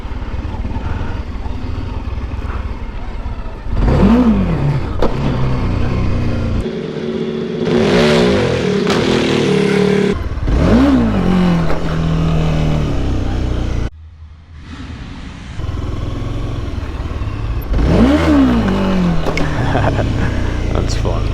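Motorcycle engine revving hard as the clutch is popped for night-time wheelie practice, rising whines repeating in bursts with a brief drop between, loud and close, with a voice talking over it.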